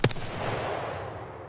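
A single sharp gunshot fired in the video game Escape From Tarkov on the Shoreline map, a loud near crack at the start followed by a rolling echoing tail that fades away, with no talking.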